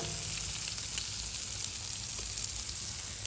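Burger sliders sizzle on a flat griddle with a steady, fairly quiet crackling hiss and scattered small pops, and no voices.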